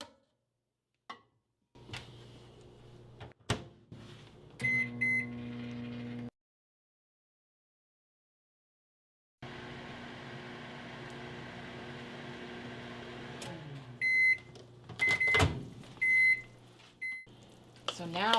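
A microwave oven hums steadily while heating cheese for fathead dough, in two running stretches separated by silence, followed by several high beeps and clinks of a bowl being handled.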